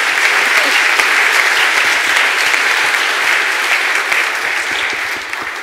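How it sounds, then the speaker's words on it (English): Conference audience at a lightning talk session applauding, a dense sustained wash of clapping from many hands filling the room, loud and continuous before gradually tapering off near the end. "A big applause, please."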